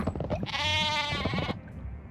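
A sheep weapon in the video game Worms Reloaded lets out a loud, wavering bleat lasting about a second, heard close and clear against faint game sounds.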